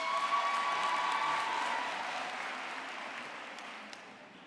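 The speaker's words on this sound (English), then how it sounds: "So let us congratulate and give them a round of applause as well." A crowd at a university graduation ceremony for an education faculty applauds in a dense, steady wash of clapping that gradually fades away over a few seconds.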